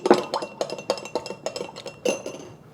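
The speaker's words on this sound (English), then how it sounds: "And just give that a stir." A spoon clinks repeatedly against a bowl while stirring a soy sauce mixture for moo shu pork, a quick irregular series of close, bright taps with no talking.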